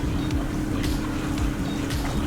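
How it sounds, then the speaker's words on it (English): A sailboat moves across open water with a steady, close wash and rushing noise, wind buffeting over it and a low hum beneath, continuous with no breaks. "I'm sailing."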